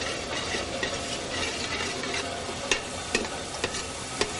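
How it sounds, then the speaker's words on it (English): Vegetables, including onions and carrots, get stirred in hot oil in a pot at fairly high heat, a soft steady sizzle broken by several sharp spoon clicks against the pot toward the end. "Kind of give it a stir to coat the vegetables with the oil."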